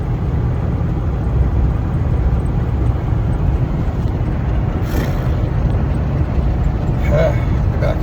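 A truck with a fault rumbles and vibrates heavily while driving along a road, a dense, continuous low roar filling the cab steadily throughout, loud and close, with a faint voice under it.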